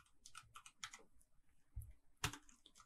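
Quick bursts of keystrokes on a computer keyboard while entering code in RStudio, soft close clicks in irregular clusters with one sharper louder tap near the end.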